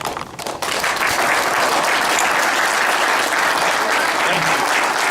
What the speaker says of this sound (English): please, to stand up and give these beautiful people a big round of applause